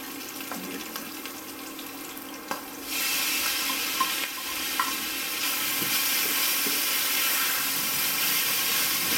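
Shredded jackfruit fries in a pan for a kheema curry, a steady broadband sizzle that swells louder partway through, with scattered light clicks and no talking.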